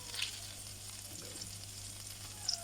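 Spices for dhal fry in a pan, giving a faint, steady sizzle with occasional small pops and stirring sounds.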